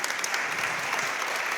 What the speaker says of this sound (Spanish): Un aplauso para Felipe que recogió el guante.